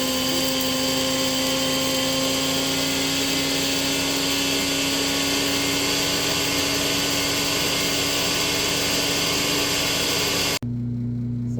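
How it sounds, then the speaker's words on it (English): An electric grinder whirs loudly and steadily as it grinds eggshells, a close, continuous high-pitched motor roar lasting about ten seconds before cutting off abruptly. "And then they go in here, and then we go to the grinder."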